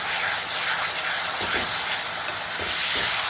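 Potatoes and green peas with a boiled, ground paste of dried chillies, garlic and onion are stir-fried in a pan, giving a steady close sizzle and hiss with a few soft stirring scrapes and no talk.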